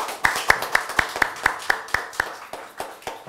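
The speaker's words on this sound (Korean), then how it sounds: "큰 박수로 맞아주시기 바랍니다." A small seminar audience welcomes a speaker with applause that starts as evenly spaced, distinct claps and then loosens into a thinner, ragged patter before fading out.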